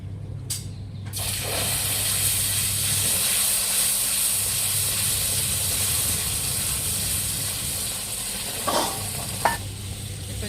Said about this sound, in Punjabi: ਪਾਵਾਂਗੇ ਗਰਮ ਪਾਣੀ